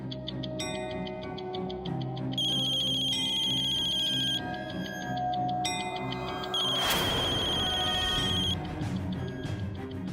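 A mobile phone ringtone repeats in loud electronic tones over a background of music, starting and stopping in bursts.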